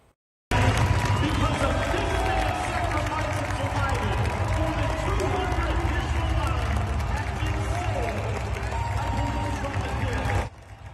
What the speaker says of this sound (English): the crowd gave Officer Fishburne a standing ovation